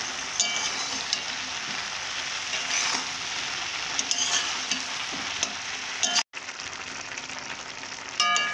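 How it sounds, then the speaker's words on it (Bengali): Spinach stirred in a frying pan after salt is added, with a steady wet sizzle and repeated scraping of the spatula throughout, broken by a brief near-silent gap before the cooking noise resumes. "দিয়ে এইভাবে নেড়ে চেড়ে নেব"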